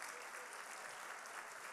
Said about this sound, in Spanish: Despedimos con un fuerte aplauso al señor presidente